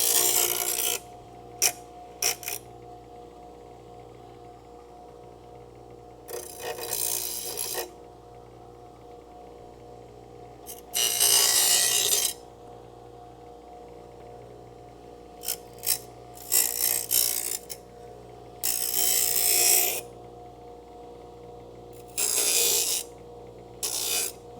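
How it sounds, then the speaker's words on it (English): A bench grinder deburring a metal part in a Crew Cab Charger restoration shop: several separate bursts of harsh grinding contact rise over a steady low motor hum, with quieter gaps between passes and no talking. "I'm just putting this on the bench grinder to deburr it."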